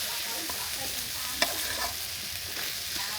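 Fish frying in a pan for crispy fish, a steady soft sizzle with faint stirring and one sharp clink partway through.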